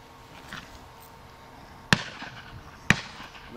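Two sharp shotgun blasts ring out about a second apart at a Dorset pheasant and partridge shoot, loud against quiet outdoor background noise.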